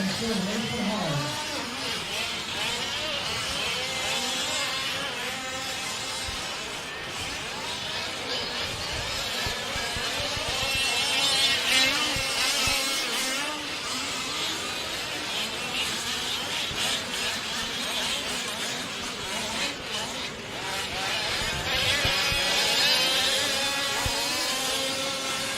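1/5 scale race cars buzz around a track at a West Coast Nationals race, a continuous layered engine drone that swells and fades as cars pass, with an announcer talking over it throughout.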